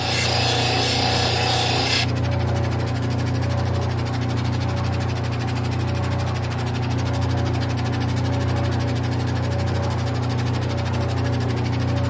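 A stone cabochon gets its final polish at 14,000 grit on a machine, heard as a steady close whirring hum with a constant broadband rub that runs unbroken throughout.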